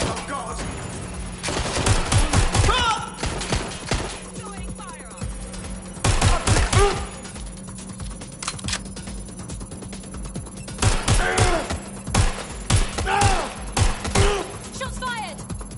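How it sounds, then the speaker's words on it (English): Gunfire in the video game Watch Dogs Legion, with loud bursts of rapid shots and fusillades in several clusters over a steady low hum, close and dense, with shouting voices between volleys. "Shots fired!"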